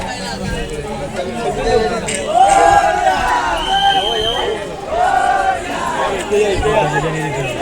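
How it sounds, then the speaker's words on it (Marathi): Busy crowd chatter fills Ratnagiri railway station on the Konkan line during Ganpati festival travel, a steady babble of many voices with louder swells, close and continuous throughout. "इथे पण थोडीफार गर्दी आहे"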